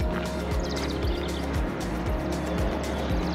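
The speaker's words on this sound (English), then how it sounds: "you can hear the interstate from here. You can hear some of the trucks over at the Love's, fueling station." Steady distant roar of interstate traffic near a truck stop fueling station, with low engine drones of trucks sweeping past in repeated waves, a continuous, even background hum.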